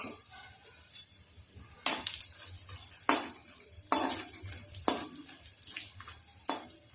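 Phool patase fry in hot desi ghee in a kadai: a soft background sizzle is broken by about five sharp scraping stirs of a spatula against the metal, spaced roughly a second apart.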